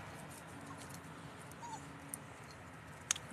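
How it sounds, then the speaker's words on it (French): A dog whimpers faintly at a distance, with soft, thin cries and a couple of brief yips toward the end, all over a low background hum. "Un chien."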